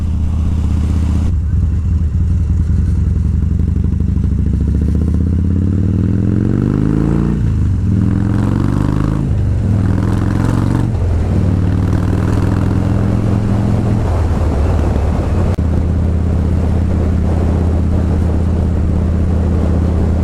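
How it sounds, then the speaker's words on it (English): A Harley-Davidson Street Bob motorcycle, just back from repair with a new battery, rumbles loud and close as it rides, its engine note rising and falling through several gear changes and throttle swells over a steady low drone. "so this is the second ride since I got my bike back from being repaired"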